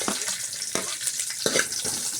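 Onion, green chili and curry leaves fry in a pan, a soft steady sizzle broken by a few sharp stirring scrapes and clinks, close by, with no voices.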